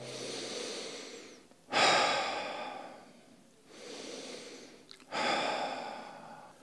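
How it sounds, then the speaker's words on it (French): Two deep breaths during a Qigong exercise, each a slow inhale followed by a loud, long exhaled sigh, close and alone in a quiet room. "On va prendre 2 grandes respirations avec 2 grands soupirs pour assimiler ce qu'on vient de faire."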